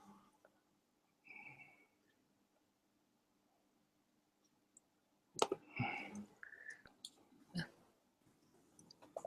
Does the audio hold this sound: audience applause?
no